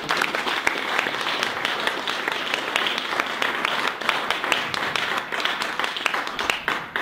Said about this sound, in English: let's give Bilal one more round of applause